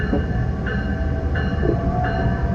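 A Metra Electric commuter train on the former Illinois Central line near Blue Island rolls past with a steady, loud rumble and a rhythmic tonal whine that repeats every half second or so.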